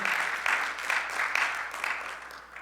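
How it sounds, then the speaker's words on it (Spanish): A church congregation claps in praise to God, a fairly soft wash of applause with rhythmic surges, tapering off toward the close. "Puedes darle un aplauso de alabanza a Él."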